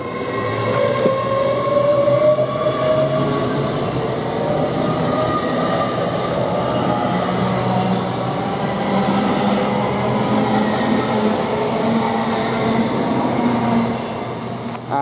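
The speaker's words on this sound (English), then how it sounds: "Now this train is now departing, which is a little late running, 1342 for London King's Cross towards Leeds." A passenger train pulls out of Grantham railway station on a service between London King's Cross and Leeds, its loud, sustained rumble and rising tonal whine filling the platform without letup.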